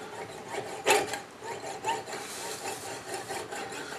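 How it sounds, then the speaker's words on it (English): A jeweler's saw starts a cut in the metal of a Bowie knife guard, producing close, scratchy rasping strokes in an uneven back-and-forth rhythm with no voices. "now all I do is get the saw cut started"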